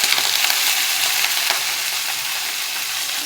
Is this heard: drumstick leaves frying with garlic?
yes